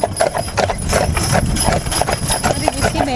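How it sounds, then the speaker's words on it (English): Percheron draft horses pulling a wagon on a Sunday drive, hooves clip-clopping in a quick steady rhythm close by, with a faint voice in the background. "see how the horses picked up pace though?"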